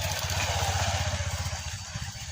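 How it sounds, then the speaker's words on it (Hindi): A motorcycle comes up from behind on a dark road outside a shop, its engine a steady close putter with a rapid low pulsing that fades slightly as it passes. "और पिछले गाड़ी आता मोटरसाइकिल"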